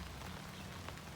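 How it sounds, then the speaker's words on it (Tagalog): Heavy rain pouring onto a flooded vegetable garden, a dense, steady patter of drops that stays even and close throughout, with no talking. "Grabing ulan."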